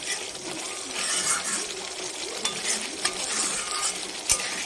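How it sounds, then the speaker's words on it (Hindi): Masala for a curd katla fish curry fries in a pan with a steady crackling sizzle, while a spoon clinks and scrapes against the metal now and then. "इसे हम और अच्छे तरीके से फ्राई करेंगे।"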